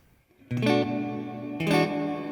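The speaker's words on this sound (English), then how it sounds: "you'll hear it sounds like a dry guitar with a digital reverb" A clean electric guitar with a digital reverb pedal plays two strummed chords, each ringing out with a smooth, even reverb tail. The sound is close and moderately loud, with no voices.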